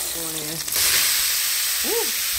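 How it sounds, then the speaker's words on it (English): Meat drops into melted butter in a pan and breaks into a loud, steady sizzle that holds evenly, with a brief voice heard just before the meat goes in and another short vocal sound near the end. "Once that butter melts almost all the way, then I will add the meat."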